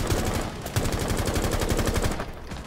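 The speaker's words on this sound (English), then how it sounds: "I shot someone in the wall." Rapid automatic gunfire in the video game Rainbow Six Siege, a dense, fast burst of shots that runs loud and continuous throughout.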